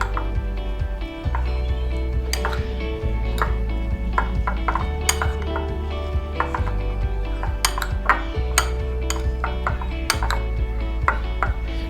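A spoon stirs chopped capsicum in a bowl, giving repeated bright clinks and scrapes against the dish in an uneven rhythm, close and clear over a low steady background hum.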